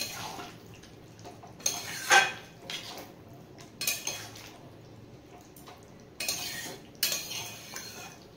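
Fried paneer being stirred into a pot of boiled mixed vegetables, a spoon scraping and clinking against the metal in several sharp bursts with quieter wet stirring between them.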